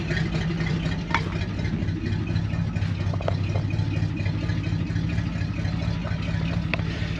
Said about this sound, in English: What a happy engine. Thing is so smooth.